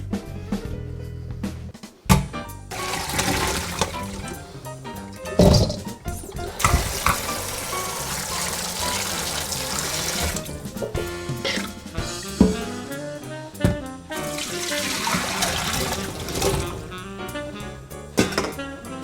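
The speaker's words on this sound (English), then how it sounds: "Okay, so now all you got to do is rinse these under the tap" Cherries rinsed under a running kitchen tap: a continuous splashing rush of water, with clatter and a few sharp knocks as the fruit is moved about in the stream.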